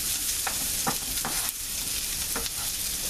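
Beef stew meat with garlic and onion sizzling in a pot, a loud, steady frying hiss with a few soft stirring scrapes, no voices.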